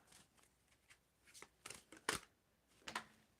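Tarot cards shuffled by hand, a series of soft irregular riffles and slaps over a few seconds, close but quiet, with no talking.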